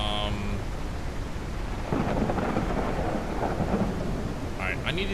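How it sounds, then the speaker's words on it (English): Thunder rumbles deep and loud over steady heavy rain in a thunderstorm from a Japanese train simulator game, a continuous dense wash with rolling low swells and no talking. "I will leave you with the calming noise of the storm"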